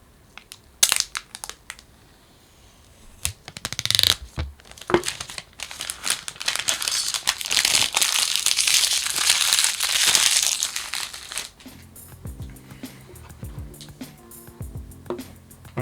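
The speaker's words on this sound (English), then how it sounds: "let's just peel into this plastic" Plastic wrap is peeled and torn off an iPhone 12 Pro box in loud, close crinkling and crackling bursts, with a few quieter taps and handling sounds at the end.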